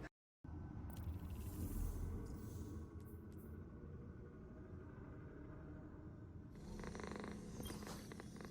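A cat purs close by as a steady low rumbling drone, continuous throughout, with brief soft rustling and a rise near the end.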